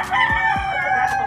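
A gamefowl stag being conditioned on a Filipino feeding program crows close by in a single loud, sustained call.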